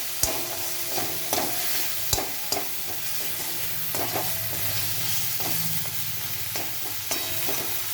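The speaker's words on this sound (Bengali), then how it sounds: "এতে আদা দিয়ে দিলাম, আদা বাটা। আদাটা একটু নাড়িয়ে নিয়ে" Ginger paste frying in a pan for a pointed gourd korma, with a steady close sizzle and irregular scraping taps as a utensil stirs it, and no voices.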